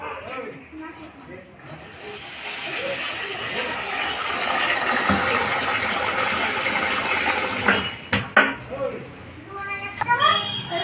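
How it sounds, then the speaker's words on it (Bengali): Gobindobhog rice is washed in water, with swishing and sloshing that builds over several seconds, followed by a few sharp clicks and knocks of the pot. "এবার আমি গোবিন্দভোগ চালটাকে ধুয়ে নেব পরিষ্কার করে"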